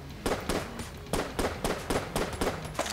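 Disintegrator gun in Enter the Gungeon firing a rapid series of sharp, crackling blasts, about ten evenly spaced shots ringing out loud and close with nothing else around them.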